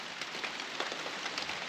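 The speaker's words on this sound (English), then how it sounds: "It's raining pretty good." Rain falls steadily around a small hiking shelter, a close, dense hiss with faint patters on the surface, brief and continuous.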